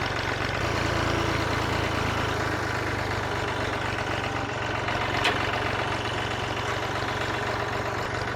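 A Massey Ferguson 231 tractor engine runs steadily nearby, giving a loud, continuous low rumble with no changes in pace and no talking.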